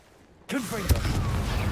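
A Confringo fire spell is cast in Hogwarts Legacy: after near-silence, a sudden whooshing blast erupts with a sharp thump, then a sustained fiery roar follows, with a voice underneath.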